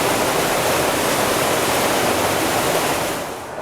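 Water pours steadily from an outfall into a Parshall flume, a loud, dense rushing roar that holds constant before easing slightly at the end, with no voices.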